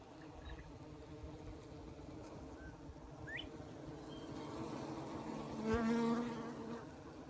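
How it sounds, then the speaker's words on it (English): Honeybees buzz steadily in a home garden, a continuous droning hum with individual bees passing close now and then, swelling louder near the end, a faint bird chirp in the background and no talking. "Here are my bees, the honeybees, and they're doing really well."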